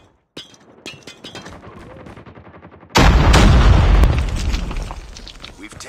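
In Call of Duty: Mobile, rapid gunfire clatters for a few seconds before a frag grenade detonates in a loud, close boom that rumbles and fades while scattered shots continue.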